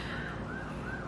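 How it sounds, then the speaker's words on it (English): A siren wails in a small town, heard faint and far off through open windows as a few rising and falling sweeps over a steady background hum. "You can hear sirens."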